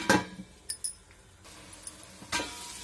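A lid clinks onto a pot of veg biryani: a sharp metallic clink, followed by a few lighter taps and rattles and a final clank, close and clear with no talking.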